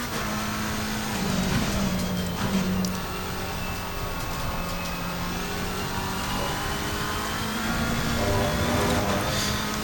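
BMW GT race car in Assetto Corsa Competizione at Oulton Park, engine droning steadily at high revs down the straight, with a continuous loud buzz and small pitch shifts as it holds speed.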